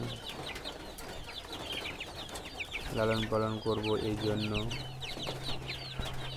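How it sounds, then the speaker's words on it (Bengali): Young broiler chickens kept in a small cage on a village farm cluck and peep in a busy, close chorus, with a person talking over them. "এই দেখতে পাচ্ছেন এগুলো হচ্ছে ব্রয়লার মুরগি বাচ্চা"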